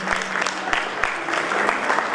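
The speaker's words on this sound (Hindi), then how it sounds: "एक बार जोरदार तालियां बजा दें" An audience applauds at a Daughters' Day honouring event held by CK Birla Hospital in Jaipur, with loud, dense clapping that holds steady for about two seconds, voices faintly mixed in.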